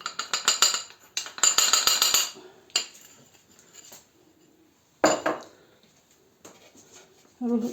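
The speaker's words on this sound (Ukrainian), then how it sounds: "І розмішуємо цю муку" Flour and starch being stirred in a bowl, the utensil clinking and scraping against the sides in several quick bursts with pauses between, close and fairly loud.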